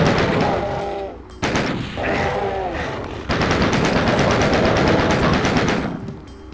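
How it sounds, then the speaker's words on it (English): Rapid, continuous chain gun fire from the Doom video game, loud and sustained in dense bursts with brief breaks, mixed with game explosions and noise. "Chain gun is the best for those things, the demons"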